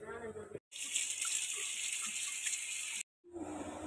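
Water gushes off boiled kamansi seeds as the pot is drained, a steady splashing pour of about two seconds with talk just before and after.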